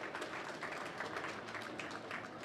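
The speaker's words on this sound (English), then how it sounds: "Can we give them all a round of applause?" A crowd at the Harborfest 2018 kickoff in Boston gives a round of applause, a soft, diffuse clapping heard at a distance and sustained throughout.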